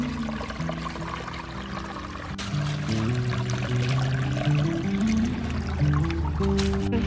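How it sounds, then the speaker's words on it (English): A creek runs through winter woods beside a farmhouse, giving a steady, close rush and gurgle of flowing water that swells a little halfway through. "Every time our creek is running, I just want to come and splash in it, throw rocks in it."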